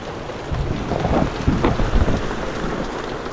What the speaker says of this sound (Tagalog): Ilang araw nang umuulan dito sa atin.